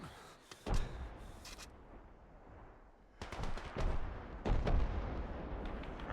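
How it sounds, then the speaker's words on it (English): Suppressive gunfire in Arma 3, set in a Bakhmut, Ukraine war mission, heard as bursts of rifle and machine-gun fire with heavy booming reports, some close and loud, others more distant, arriving in irregular clusters. "There's a suppressive fire."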